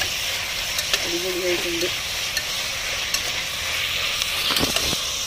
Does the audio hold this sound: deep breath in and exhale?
no